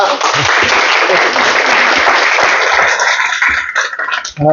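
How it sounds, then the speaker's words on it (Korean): A seminar audience gives a big round of clapping to welcome a lecturer, a continuous close burst that tapers off, with a voice briefly starting at the very end. "우리 또 박사님 큰 박수로 모시고 강의 진행하겠습니다."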